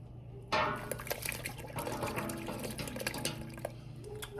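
Spoon stirring sugar into a pot of Jamaican sorrel hibiscus drink, a sudden start of continuous liquid swirling with light clinks against the container, close and moderately loud, no talking.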